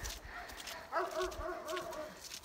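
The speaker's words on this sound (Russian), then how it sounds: "Соседский собака." A neighbour's dog in a wintry village barks a short run of quick, moderately distant woofs over faint background noise.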